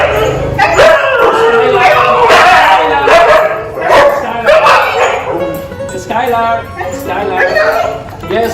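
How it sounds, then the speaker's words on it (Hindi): Several pet dogs, mostly Siberian huskies, bark, yip and whine excitedly in greeting their owner at a residence, a loud, overlapping chorus that runs continuously throughout with voices mixed in. "सभी डॉग अपने मालिक के स्वागत में आवाजें निकालने लगते हैं"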